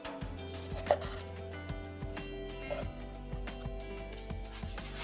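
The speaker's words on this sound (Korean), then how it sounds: "양파를 반반 나눌게요." A knife halves an onion on a cutting board while preparing salmon marinated in soy, making a few soft, evenly spaced taps and thuds up close, with no talking.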